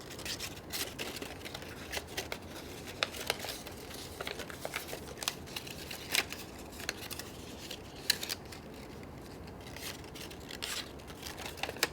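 Paper being folded into a craft body: soft, close crinkling and sharp creasing scrapes come in irregular bursts over a quiet room, with no talk.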